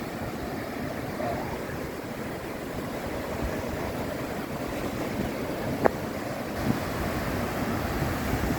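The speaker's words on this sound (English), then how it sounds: "I like the sound of waves" Sea waves at Quy Nhon beach in Vietnam roll in as a steady, broad surf wash, with light wind buffeting the microphone and no voices.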